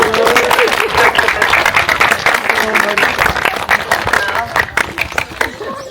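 A church congregation claps loudly and continuously after a baptism at an Easter service, dense applause filling the room with voices mixed in.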